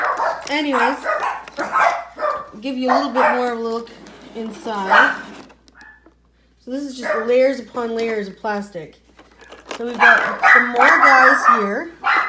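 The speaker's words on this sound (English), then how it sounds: "Sorry about the barking." A small dog barks and yips in short bursts from across the room, partly masked by a person talking steadily throughout during a board game unboxing.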